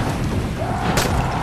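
A deep, booming gunshot fires at a zombie in the video game Dying Light, a single loud blast with a sharp crack partway through, over a dense, rumbling game background.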